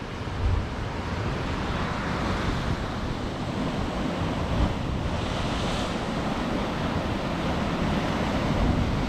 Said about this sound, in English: the waves is coming right in here.